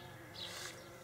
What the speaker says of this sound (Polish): Lata owad. Uwaga.